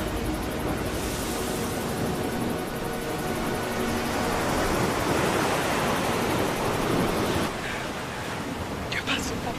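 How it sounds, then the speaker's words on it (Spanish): Rough sea surf churning near a seaside town's harbour, a loud, dense wash of breaking waves and roaring wind that swells midway and eases near the end. "Mira cómo está ese mar deslizado, carajo."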